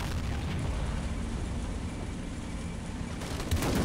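A tank cannon in the video game Call to Arms fires a high-explosive shell, a loud sustained blast and rumble lasting several seconds, followed by a further impact near the end.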